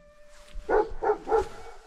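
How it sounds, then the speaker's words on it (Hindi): A dog barks downstairs in a house: three short, sharp barks in quick succession, moderately loud and slightly distant, with no talking over them. "वहाँ नीचे जाके भौंक रहा है"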